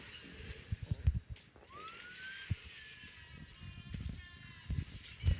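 Police car siren in the mobile racing game Asphalt Legends Unite during a team pursuit mode: a rising, wailing siren tone sweeps in and holds over game engine noise and thumping impacts, moderately loud.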